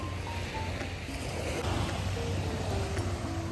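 Ocean waves wash steadily onto the shore at Nongsa beach, a continuous broadband surf hiss with gentle surges, fairly close and alone with no talking.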